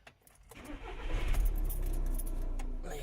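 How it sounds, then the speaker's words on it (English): A car engine starts with a brief jangle of keys, then cranks and catches within about a second, settling into a steady close idle rumble that holds to the end. "Start the car up first."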